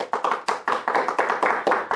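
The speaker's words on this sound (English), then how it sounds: "they can give themselves a clap again" A studio audience applauds at the close of a televised talk segment, a dense burst of many hands clapping loudly and close, in short surging waves with no talk over it.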